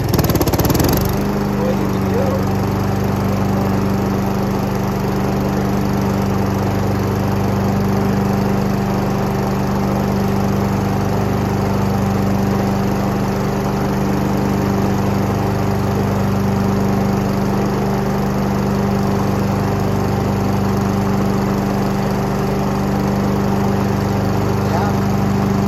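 A Honda HRX217 lawn mower engine runs steadily at close range, a loud continuous drone with a constant tone throughout and no talking.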